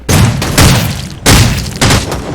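Four heavy, booming gunshots in a shooting video game, spaced unevenly with short gaps, loud and close, each with a lingering rumbling tail.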